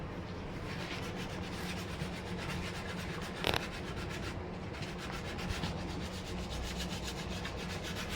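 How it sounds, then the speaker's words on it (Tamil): A thavil drum's wooden shell being polished by hand: a steady, close, continuous rubbing across the whole stretch, with one brief louder scrape partway through and no talking. "இப்போ பாலிஷ் போட்டு காமிக்கிறேன்"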